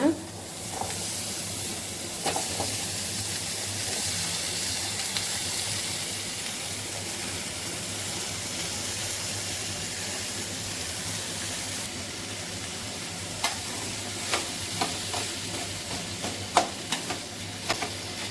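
Mustard seeds, onion and curry leaves sautéing in a pan for a Tamil home-cooked sambar and poriyal meal, giving a steady low sizzle with occasional stirring scrapes and small crackles, close and moderately quiet.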